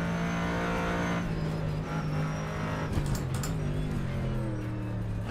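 Sustained engine drone of a GT3 race car on a hot lap in the rFactor 2 racing game, loud and steady with a shifting pitch as it accelerates and changes gear, sounding alone.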